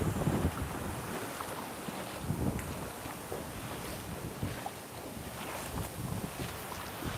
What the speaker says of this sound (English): Wind is blowing